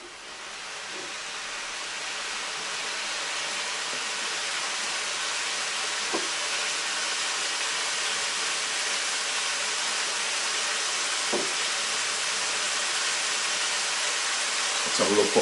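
Vegetables sizzling in a hot cooking pot for rice and peas, giving a broad, steady hiss that slowly builds, with a few faint clicks and a brief louder flare at the end.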